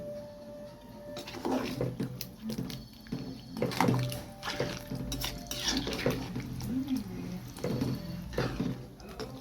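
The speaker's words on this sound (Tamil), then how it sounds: "இப்போ இன்னும் கொஞ்சம் தண்ணி ஊற்றிடுறேன்." Water poured into a pot of mutton and potato on the stove, with metal pot and utensil clinks and splashes in short bursts; moderate and close, a voice speaking between the sounds.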